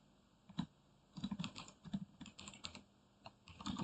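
Typing on a computer keyboard to enter a password: irregular bursts of soft key clicks in quick runs with short pauses, fairly close and quiet, no talking.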